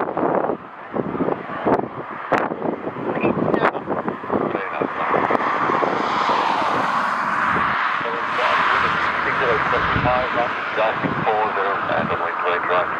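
An American Airlines jet departs Dublin Airport during a storm with strong wind gusts, its engine roar swelling to a broad, loud rumble amid heavy wind buffeting on the microphone, while people talk nearby.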